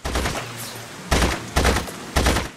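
Bursts of gunfire from the video game The Saboteur, with four loud, sharp volleys spaced about half a second apart, heard alone without talk.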